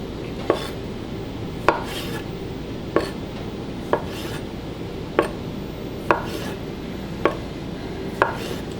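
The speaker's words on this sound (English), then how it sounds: "Just gonna cut the tomatoes in half." Cherry tomatoes, including orange ones, being halved with a knife on a cutting board, a series of about eight sharp, evenly spaced taps roughly a second apart over a steady background hum, close and without talking.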